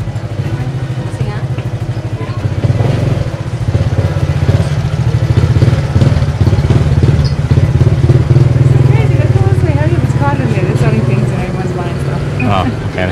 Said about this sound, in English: Check out the guy on the scooter.